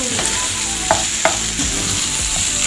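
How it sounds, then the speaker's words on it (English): Boiled tripe (matumbo) fries with garlic and onion in a pan, a steady loud sizzle with a few sharp clicks of stirring over it, and no voices. "So we are going to let our matumbo cook into our garlic and onion"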